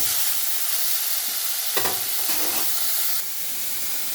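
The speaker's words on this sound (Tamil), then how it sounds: "தக்காளி போட்டுட்டு நல்லா கிண்டி விடுவோம்" Steady sizzling of tomatoes frying in a pan, with a few scraping stirs partway through; close, continuous, no talking.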